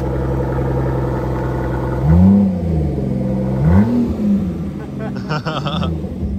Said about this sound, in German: Max, gib Gas, ja? Gib alles